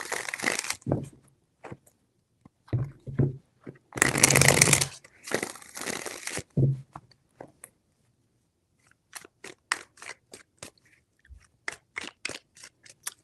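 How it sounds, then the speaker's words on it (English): Crisp, rapid riffling of a tarot deck being shuffled in several bursts, with brief pauses and lighter taps between them, close and fairly quiet. "Three shuffles."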